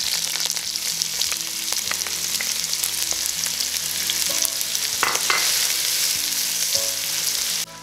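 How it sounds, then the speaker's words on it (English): Onion and hot pepper frying in hot olive oil in a large pot over a medium flame, a steady loud sizzle with occasional scraping as the mix is stirred, continuous throughout with no talking. "I'll stir and cook it until the onion is translucent, about 30 seconds."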